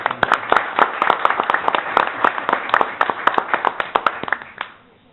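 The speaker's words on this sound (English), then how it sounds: "We give it a round of applause." An audience at a school board trustees meeting claps in steady, dense applause for several seconds at moderate distance, then the clapping fades out.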